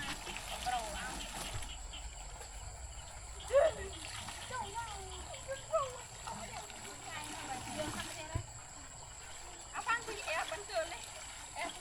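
Water splashes and sloshes irregularly at a village well in a rice field as it is scooped up, fairly faint, with people, including a child, talking throughout.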